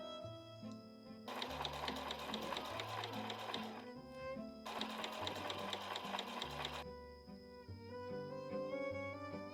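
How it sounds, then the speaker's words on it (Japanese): A sewing machine stitches the side seams of a fabric drawstring bag in two fast, close bursts of rhythmic whirring, separated by a short pause, with quiet background music underneath. "まずは7ミリの縫い代で横縫います"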